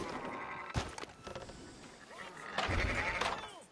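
Sheep bleating in the Red Dead Redemption 2 game world, a few wavering calls mixed with hoof and ambient noise at moderate distance, with a voice talking over part of it.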